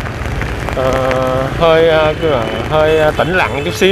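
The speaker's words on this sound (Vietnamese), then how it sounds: "ngồi nhìn mưa, ngắm mưa" Rain falling in Saigon makes a steady, soft hiss underneath a person speaking Vietnamese close up, who talks throughout.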